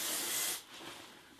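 A short, loud hairspray can hisses for about half a second, then cuts off into a quiet room.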